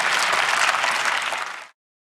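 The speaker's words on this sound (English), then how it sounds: "Let's listen to the end of the original to hear that applause" Applause from a concert audience closes the original recording, a dense, loud wash of many hands clapping steadily before cutting off abruptly near the end.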